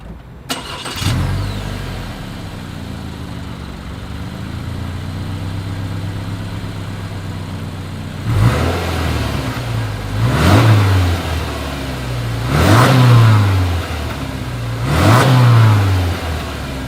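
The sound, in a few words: Subaru Forester exhaust starting and revving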